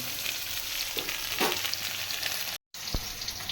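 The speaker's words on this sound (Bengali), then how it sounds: "আলুটা ভাজা হতে লাগুক" Potato pieces fry in oil for a fish curry, giving a steady, close crackling sizzle with a few soft stirring scrapes and a brief dropout near the end; no one speaks.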